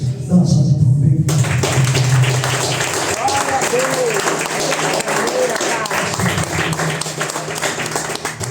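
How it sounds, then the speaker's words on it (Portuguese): A church congregation applauds at an evening anniversary service, a steady broadband patter of many hands sustained throughout, mixed with talk and a little background singing or voice. "Dá uma salva de palmas."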